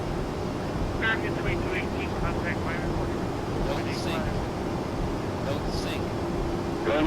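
An airliner goes around after an aborted landing in the Prepar3D flight simulator, with a steady low jet engine rumble running under intermittent talk throughout.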